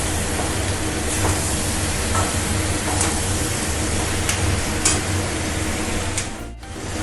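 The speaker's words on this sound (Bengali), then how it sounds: "মশলাটাকে একটু ভাজবো" Spice masala frying for a mixed paneer and vegetable curry, a steady loud sizzle and hiss throughout with occasional stirring scrapes and clinks, briefly cutting off near the end.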